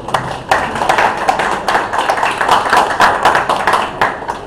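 A studio audience at a televised discussion program applauds, a sustained, even burst of many hands clapping that stays dense and loud throughout.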